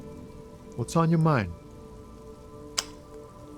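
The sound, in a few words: rain in video game Disco Elysium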